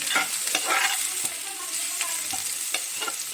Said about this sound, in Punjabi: ਲਸਣ ਅਦਰਕ ਪੁੱਜ ਜਾਏਗਾ ਥੋੜਾ ਜਿਹਾ